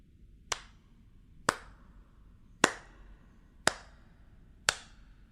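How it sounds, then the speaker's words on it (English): Five slow, sharp hand claps spaced about a second apart, crisp and close, with quiet background hum between them. "Baron begins to slowly clap."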